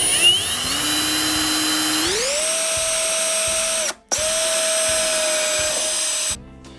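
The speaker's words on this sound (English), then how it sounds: "I need to make sure I drill perfectly straight so I don't poke through the sidewall at all." A power drill bores holes around the rim of a boat cup holder, whining steadily and loud, rising in pitch partway through, pausing briefly, then spinning again before stopping.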